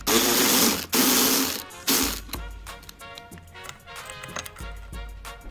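A ratchet socket wrench with a 24mm socket clicks rapidly and close up while loosening the steering wheel bolt on an S550 Mustang, starting with a loud burst of clicks and settling into quieter ratcheting.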